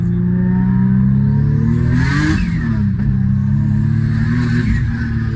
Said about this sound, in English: Yeah, that's wastegate.